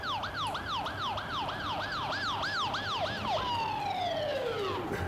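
A keyboard synth imitates a siren: a rapid rising-and-falling wail repeats about nine times, then gives way to one long tone gliding downward, played alone and fairly quiet.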